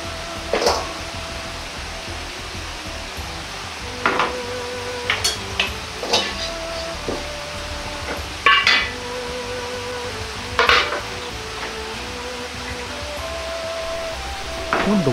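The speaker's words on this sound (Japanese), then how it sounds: "中華鍋だと煮づらいので鍋を変えます。" Cookware being swapped from a wok to a cooking pot while making nikujaga: several sharp metallic clanks and knocks spaced out over a quiet kitchen background.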